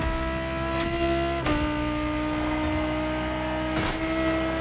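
In The Crew Motorfest, an Ivory Tower Aezus GT engine holds a steady mid-revving drone with a brief pitch step partway through and a couple of short bursts, fairly quiet and alone.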